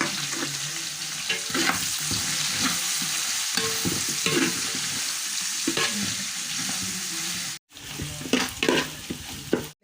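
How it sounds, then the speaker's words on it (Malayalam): Chopped onions frying in hot oil with green chilli and curry leaves for a beef curry, loud continuous sizzle with repeated spatula scrapes and stirring knocks, briefly cutting out near the end, no talk. "ഇനി അരിഞ്ഞ് വെച്ചേക്കുന്ന ഉള്ളി ഇട്ട് കൊടുക്കാം."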